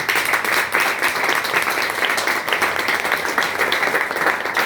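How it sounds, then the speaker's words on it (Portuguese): Sustained applause from a church seminar audience, steady dense clapping throughout, fairly loud and without talk. "Vamos aplaudir essa verdade."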